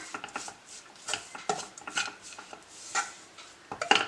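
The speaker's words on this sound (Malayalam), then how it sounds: "ഇനി അതിലേക്ക് കുറച്ച് മല്ലിയില അരിഞ്ഞതും കൂടെ ഇട്ട് കൊടുക്കാം. അതും കൂടെ ഒന്ന് മിക്സ് ചെയ്യാം." A spoon works through flattened rice mixed with chopped coriander in a pan, giving close, irregular scraping clinks and taps against the metal at an uneven, stirring rhythm.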